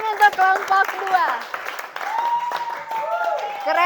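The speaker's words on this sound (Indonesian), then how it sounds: "Tepuk tangan untuk kelompok 2." A classroom claps for group 2 after their presentation in an open-class lesson, a few seconds of scattered hand claps under loud overlapping student voices and cheering.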